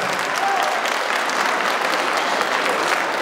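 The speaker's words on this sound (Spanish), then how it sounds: "Un aplauso fuerte para ellos, por favor." Audience clapping loudly for a group of musicians at a festive Santa Cecilia musicians' day celebration, a dense even wash of applause throughout, near and sustained.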